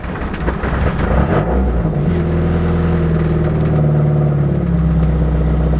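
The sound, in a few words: Mitsubishi Eclipse engine idling roughly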